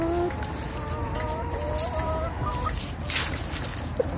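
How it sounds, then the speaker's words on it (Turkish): A rooster and hens in a backyard chicken coop give faint drawn-out calls and clucks against steady outdoor background noise, somewhat distant. "Horoz"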